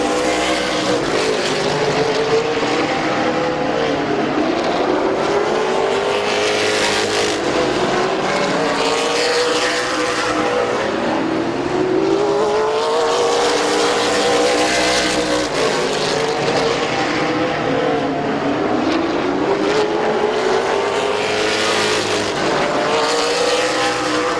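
Race cars lap Midvale Speedway in a loud, continuous engine roar, with pitch rising and falling as the pack passes through the turns, and no talking.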